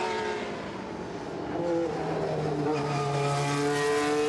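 A Wolf Formula One race car, the last car James Hunt drove in a Grand Prix, runs with a steady engine drone that climbs in pitch as it revs, loud and fairly close with no talk.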